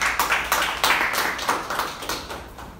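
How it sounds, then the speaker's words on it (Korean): Scattered hand clapping from a forum audience welcoming a presenter, with a brisk run of sharp claps that gradually thins out and fades. "스프리님께도 큰 박수 부탁드리겠습니다."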